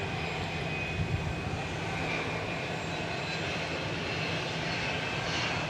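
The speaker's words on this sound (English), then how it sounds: "We're going to swing around now because we got a 757 coming in" A Boeing 757 jet arriving at DFW Airport at night roars with a steady, loud engine drone that holds evenly throughout.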